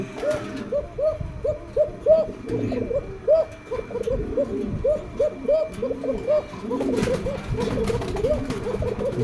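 Pigeons coo repeatedly in soft, rounded calls, several overlapping in a steady rhythm, close by with a murmuring backdrop.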